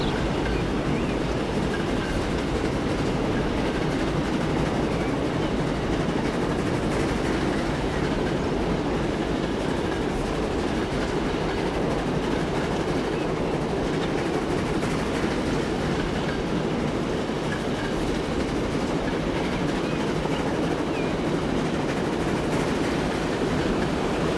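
A simulated train in Transport Fever 2 rolls along rails on a UK route, a loud, steady rumble with continuous clickety-clack for the whole stretch and no talking.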